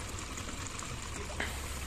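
Water runs steadily into a container, a continuous close pouring and bubbling wash heard alone, with a brief brighter splash near the end.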